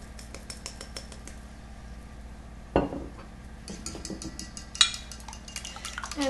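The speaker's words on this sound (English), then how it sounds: "let me beat the eggs first with a little bit of salt and pepper" Eggs with salt and pepper being beaten in a bowl, a steady quiet stirring and clinking of a utensil against the dish, with a couple of sharper knocks, under faint kitchen background noise.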